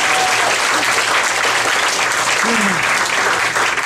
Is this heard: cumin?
no